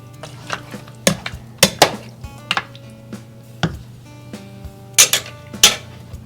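Sweet and sour spareribs with pineapple chunks and juice being stirred in a pot, giving scattered clinks and scrapes of a utensil against the metal at an uneven pace, close and fairly clear over a low background hum.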